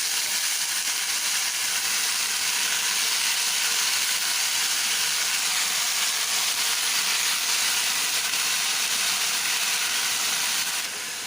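Onion, potato and leafy greens fry in a pan, giving a steady, loud hiss and sizzle that runs unbroken throughout, with no voices over it.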